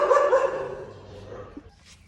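A dog barks once loudly up close, the bark trailing off into a softer whine, with a brief fainter yelp near the end.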